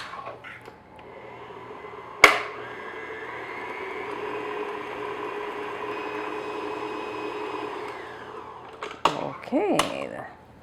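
An electric stand mixer whirs steadily at medium-low speed, blending a bowl of ingredients for several seconds, starting after a sharp clack and ending with clatters and brief talk.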